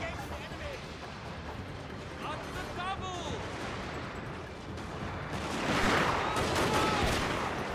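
Massed musket volleys crackle in a Shogun 2 online battle as troops fire from a forest. A dense, steady din of shots swells louder toward the end, with someone speaking over it.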